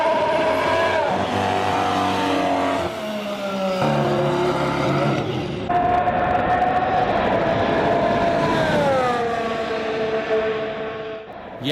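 A 2019 Ferrari racing car with a V6 turbo hybrid engine drones loudly, its tone rising and falling through several gear changes, with a steady buzzing whine and no voices.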